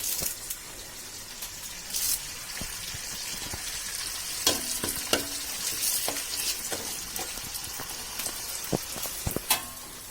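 Curry leaves crackle and spit as they hit hot oil for a prawn biryani masala, a steady close sizzle broken by sharp pops and spatters, with no one speaking.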